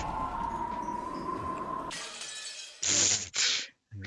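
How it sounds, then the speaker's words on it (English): Glass shattering in the Umineko visual novel: a steady tone cuts out, then comes a sharp crash followed by two bright, loud bursts of breaking glass and a final clink, with no voices. "And of course we get the shatter."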